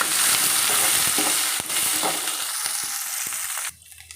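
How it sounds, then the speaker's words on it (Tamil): Onion and curry leaves sautéing in a pan for fenugreek kuzhambu: a close, loud sizzle with scraping stirs and a few ladle taps, cutting off abruptly near the end and leaving quiet room tone. "இப்போ வெங்காயம் கருவேப்பிலை போட்டு வதக்கிக்கலாம்."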